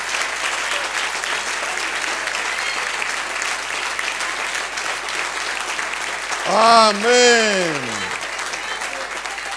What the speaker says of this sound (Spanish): Denle un aplauso a él, mi hermano.